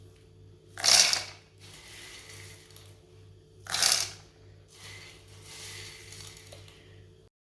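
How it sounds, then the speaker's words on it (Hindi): A small electric grinder grinds roasted chickpeas and makhana in two loud whirring bursts, each about a second long, with quieter rattling and clattering between them. "इसे आधा आधा करके ग्राइंड कर लेंगे। ये छोटा ग्राइंडर है ना"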